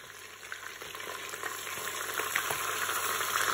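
Fish frying on both sides in a Cookeo multicooker for thiep: a continuous bright sizzle and crackle that grows steadily louder, with faint stirring, no talking.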